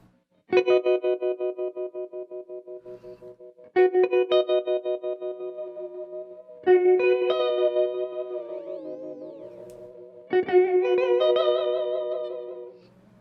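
Clean electric guitar arpeggios ring out through a swirling modulation effect controlled by an OBNE Expression Ramper pedal, four picked phrases with a warbling, pitch-wavering shimmer that bends and sweeps in the third.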